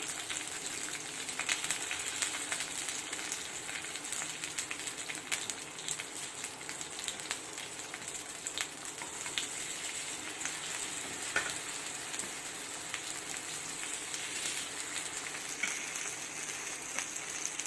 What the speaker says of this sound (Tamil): இப்போ இது நல்லா பொரியட்டும்